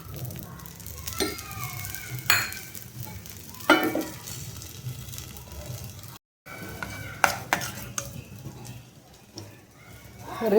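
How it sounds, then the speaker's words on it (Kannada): Masala rava rotti frying in oil on a pan over a low gas flame, with a steady sizzle, scraping and utensil clinks, and a short silent gap partway through. "ಗ್ಯಾಸ್ ಫ್ಲೇಮ್ ಸಣ್ಣ ಇಡ್ಬೇಕು ನೋಡ್ರಿ ರೊಟ್ಟಿ ಬಳಿ ಮಂತಾಗ ಸ್ವಲ್ಪ ಎಣ್ಣೆ ಹಾಕೋಣ"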